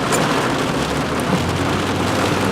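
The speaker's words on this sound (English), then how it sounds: "I actually have to turn my wipers up because of how hard it's raining" Heavy rain pours onto a car during a downpour with the wipers turned up, a dense, steady, loud hiss of drops drumming on the roof and windshield with no pause.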